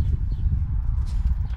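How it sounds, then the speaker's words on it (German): Horse hooves walking during a feeding routine, a steady low muffled clopping of close steps that continues throughout. "Was machen wir hier mit den Pferden, Michelle?"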